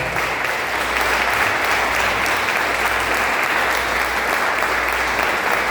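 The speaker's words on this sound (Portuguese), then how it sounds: "Vamos aplaudir Jesus muito forte" A church congregation applauds loudly and steadily, dense clapping filling the space without pause from start to finish.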